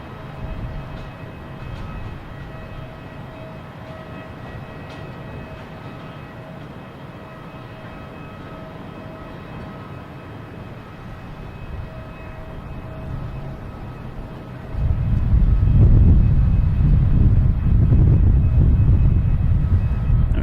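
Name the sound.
Delta Airbus A330-900 arriving from Paris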